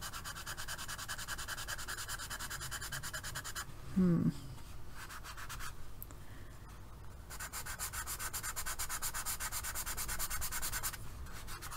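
A pastel stick rubbed back and forth over graphite on white paper makes a close, steady dry scratching and scraping that runs almost continuously, with a short pause midway and a brief faint voice sound near that break.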